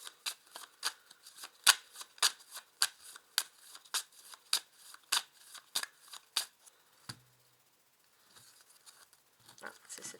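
A deck of 32 playing cards being shuffled: a rapid series of sharp, papery riffles and slaps, close and fairly quiet, followed by a brief pause and a few softer card handling sounds.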